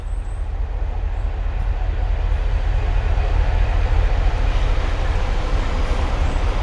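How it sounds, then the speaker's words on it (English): A train passes on the Stenson Junction to Trent Junction railway line about 200 feet away. It makes a steady, loud, low rumble that persists throughout as broad continuous noise, with no talking heard. "If you can hear a train, that's because the Stenson Junction to Trent Junction line is probably about 200 feet away from me."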